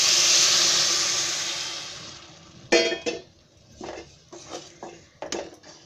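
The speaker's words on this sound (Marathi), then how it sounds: "पाणी आहे ना त्या शेवमध्ये ओतते" Hot water poured from a pan onto vermicelli for upma, a hissing, steamy splash that starts loud and fades, followed by a few clattering pot and utensil knocks.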